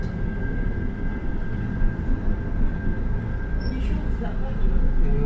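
Interior of a route 1 city bus driving through Tver, Russia: a steady, heavy, low engine and road rumble with a thin constant whine above it, continuous and fairly loud throughout.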